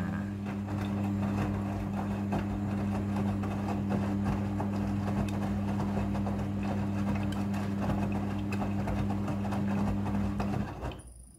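Front-loading washing machine running its automatic rinse cycle, a steady low mechanical hum with water sloshing and rhythmic churning, continuous and close, cutting off at the end.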